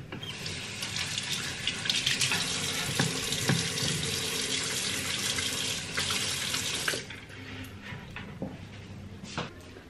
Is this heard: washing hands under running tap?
yes